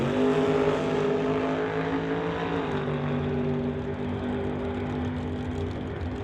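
Studebaker drag race car at a racetrack accelerating hard, a loud steady engine roar with rising harmonic whine that shifts pitch once midway, then slowly fades as the car pulls away.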